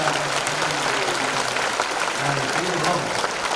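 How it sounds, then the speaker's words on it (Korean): A church congregation applauding senior pastors at a thanksgiving service, a dense, even wash of many hands clapping with a voice faintly audible underneath. "여러분 선배님께 박수 좀 해주시기 바랍니다"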